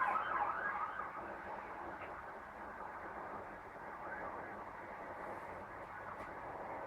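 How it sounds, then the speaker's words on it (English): An emergency vehicle siren passes outside, a steady wailing tone heard at moderate distance and fairly faint, continuing alone for several seconds. "Interrupted for ages by Siren."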